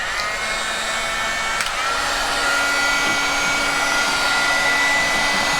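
Heat gun blowing hot air steadily while curing resin on a beach-themed round, a constant loud whooshing hiss with a faint motor whine, close by and uninterrupted.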